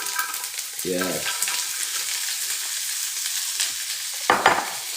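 Food hitting a hot pan while making garlic pasta with cauliflower and peas, a continuous bright sizzle with stirring scrapes and a couple of short louder bursts, no talking.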